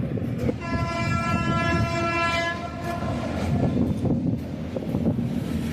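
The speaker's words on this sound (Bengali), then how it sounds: "ওই যে ট্রেন" A long freight train of oil tank cars rumbles past close by at the Bir Chilarai Bridge over the Gangadhar River, Golakganj, its loud horn blaring for about two seconds over the rushing roar of the cars and wind buffeting.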